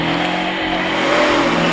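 A vintage supercharged Frazer Nash Norris Special racing car accelerates hard at the Prescott hill climb, its engine a loud, close, continuous roar rising in pitch.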